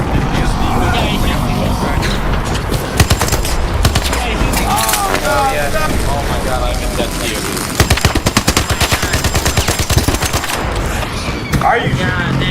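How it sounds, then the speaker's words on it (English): Rapid automatic gunfire from the Equalizer weapon in the video game Arc Raiders, loud sustained bursts with sharp repeated cracks, mixed with game effects and excited voices talking over it. "He shot somebody with his equalizer."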